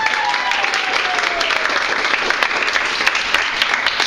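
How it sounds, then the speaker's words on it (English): A theatre audience at an improv student showcase claps loudly and steadily, a dense, continuous wash of applause lasting several seconds. A faint whistle slides downward early on, and a few indistinct voices mix in. "Round of applause if you know someone in the show tonight."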